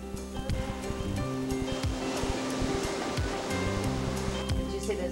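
Ocean waves wash onto a beach in the Bahamas, a steady roar of surf under what sounds like music and a voice.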